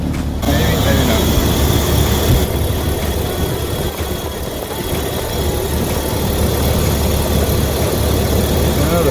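1993 Ford EB Falcon engine idling roughly with a misfire, a steady uneven rumble with faint vibration that continues throughout, close and moderately loud.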